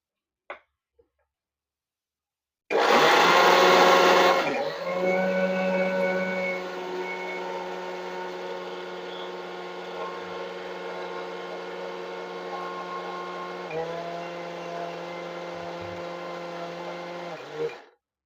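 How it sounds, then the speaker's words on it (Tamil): An electric grinding mill runs steadily while milling Tanjore-style sambar powder. It gives a loud, whining mechanical drone with a harsher burst at start-up, keeps a constant hum, and then stops abruptly. "இன்னும் கொஞ்சம் அரைக்கலாம்"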